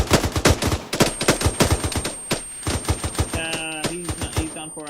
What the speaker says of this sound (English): Suppressive fire.